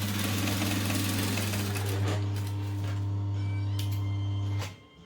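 A sewing machine stitching the tabs of a Swoon Patterns Bonnie bucket bag, running in a steady, loud, fast mechanical hum for several seconds before stopping abruptly near the end, heard close with no talking.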